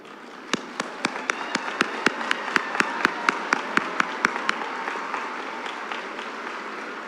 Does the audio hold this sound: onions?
no